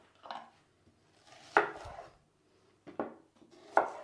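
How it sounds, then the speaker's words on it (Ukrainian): A knife finely dices an onion on a board in a few separate, sparse strokes, each a soft crunchy thud with quiet gaps between. "І ось так нарізаємо всю цибульку."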